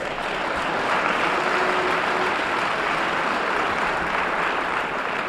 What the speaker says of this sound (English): Let's hear a round of applause for the upstairs.